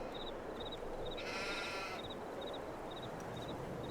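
Sheep bleating on a farm in Farming Simulator 22, one drawn-out bleat standing out over a steady ambient bed with faint repeated chirping insect-like sounds.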